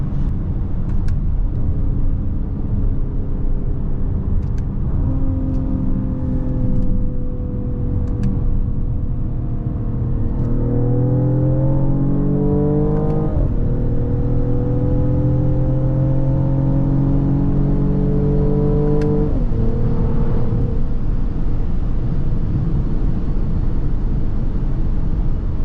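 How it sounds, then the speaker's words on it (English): A 2024 Mercedes-AMG GLE 53 driven at night gives a loud, steady exhaust drone from its rear muffler, with the pitch rising through the gears and dropping at each shift. "I like how that muffler back there is just giving off that sound"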